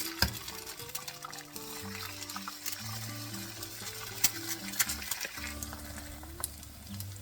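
Eggs cracked into hot good-quality oil for keto English muffins fry in a pan with a steady, continuous sizzle and crackle, close and alone, with occasional sharper pops.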